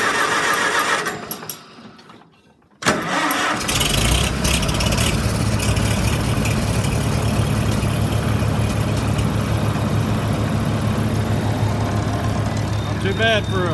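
A 70-year-old farm tractor engine cranks, briefly drops off, then catches and settles into a loud, steady low running rumble nearby, with a person speaking over it.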